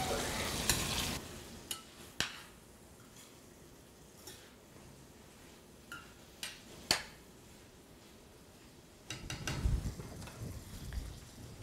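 Tomatoes cooking in a pan, a soft low sizzle punctuated by occasional sharp utensil clicks and taps, with a louder burst of frying and stirring near the end, no talking.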